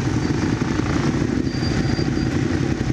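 A motorcycle engine running steadily on a mountain road trip, a close, continuous low rumble with faint clatter and no talk.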